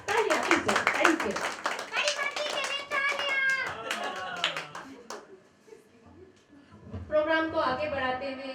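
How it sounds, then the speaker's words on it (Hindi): Audience applause at a staged New Year music and talk event, with a scattered crowd of clapping hands heard under and between a loud voice. Sustained, moderately close clapping that fades midway and then swells again toward the end. "और एक बार जोरदार तालियां फिर से, थैंक यू।"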